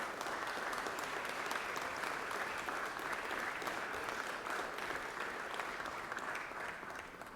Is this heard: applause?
yes